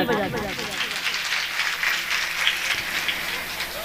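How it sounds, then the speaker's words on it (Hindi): An audience claps at a Shrimad Bhagwat Katha religious discourse in Jhansi, Uttar Pradesh, with a sustained, dense wash of applause and voices talking over it. "अब ताली बजा दो।"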